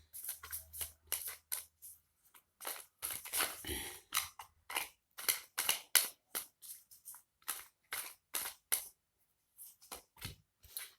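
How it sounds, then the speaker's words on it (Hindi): Tarot cards being shuffled and drawn from a deck, a rapid series of close, crisp riffling and snapping flicks in quick bursts with short pauses between them. "एक कार्ड और निकालूंगी गाइस,"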